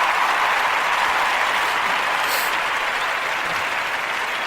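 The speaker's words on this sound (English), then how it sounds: "Let me get some effects in here. Where's the screaming crowd?" A recorded crowd sound effect plays on a wrestling sports radio show: a loud, continuous roar of cheering and clapping that holds steady throughout.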